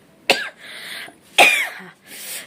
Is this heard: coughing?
yes